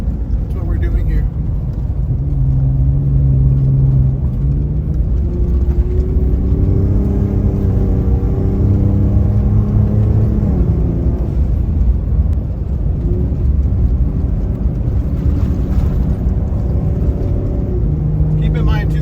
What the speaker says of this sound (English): My truck, see how well it does, see how hard I can run it.